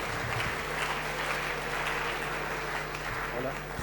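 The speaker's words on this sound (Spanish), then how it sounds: "Un fuerte aplauso, por favor" Audience applause at the CICC 2019 conference session welcoming Dr. Javier García Alonso of the Universidad de la República, Montevideo; steady, dense clapping across the hall, with a low hum underneath.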